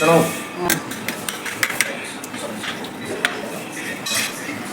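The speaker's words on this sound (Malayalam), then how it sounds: "അപ്പോൾ കഷ്ണമൊക്കെ ഉടച്ചു" Cooked vegetable pieces are mashed in a pot with a utensil, with close scraping and rubbing broken by repeated metallic clinks against the pot.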